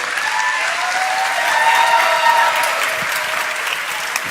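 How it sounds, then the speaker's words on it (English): A live audience at a fireside chat event gives the two speakers a warm round of applause, steady crowd clapping with a few cheers and whoops mixed in, continuing evenly for several seconds. "let's give a nice, warm round of applause to Eric and Vishen"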